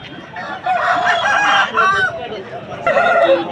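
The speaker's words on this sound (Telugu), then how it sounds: "గట్టి ఎక్కలిగినటువంటి కోడిపుంజ అనమాట" A rooster crows loudly nearby at a chicken market in Vijayawada, two drawn-out calls separated by a short pause, with faint clucking and murmur around it.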